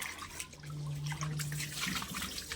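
Tap water runs steadily into a sink while a woman washes dishes, a continuous near splashing stream with faint clinks and scrapes over it.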